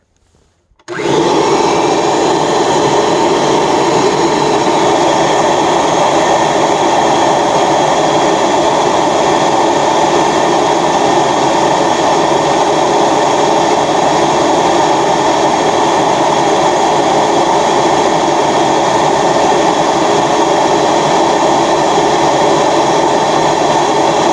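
A Kirby G4 upright vacuum cleaner, refurbished, switches on and runs loud and steady, a constant whining roar that continues unchanged for the whole stretch.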